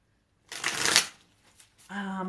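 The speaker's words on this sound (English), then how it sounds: "that was the last shuffle right there" A deck of cards shuffled close by in one quick riffle burst lasting about half a second, followed by a few soft taps and then a voice starting to speak.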